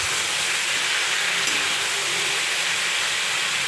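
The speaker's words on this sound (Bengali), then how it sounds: "এটা বেশি ভালো করে ভেজে নিই" Pumpkin greens and potato fry in a pan with a loud, continuous hissing sizzle that stays even from start to finish, close up and with no voices.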